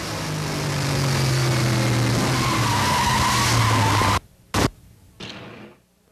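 Chevrolet stock car racing at Mosport Speedway, a loud onboard engine roar with tires skidding and squealing for several seconds before the sound cuts abruptly to near silence with a brief thump.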